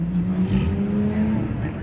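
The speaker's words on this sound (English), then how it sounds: "the Dodge Viper pulling off right here" A 1999 Dodge Viper pulls off at a car show outside Lamborghini Charlotte, North Carolina, its engine giving a steady low rumble that carries clearly through the short stretch.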